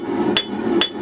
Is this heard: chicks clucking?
no